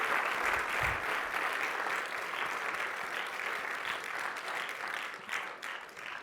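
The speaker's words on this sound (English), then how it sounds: "please join me in a big round of applause" Steady applause from an audience at a partner award presentation, a dense, even wash of many hands clapping at moderate volume, tapering slightly near the end.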